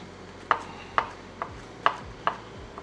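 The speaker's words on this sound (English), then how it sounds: "next thing we're gonna shave off some of this parsley and then chop it all up" A knife chops fresh parsley on a cutting board with five crisp, evenly spaced knocks about half a second apart, close and clear over a quiet background with no talking.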